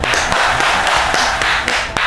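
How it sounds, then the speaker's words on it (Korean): A small audience claps together in a close, dense burst of applause with a few louder individual claps standing out. The clapping runs steadily for about two seconds. "박수."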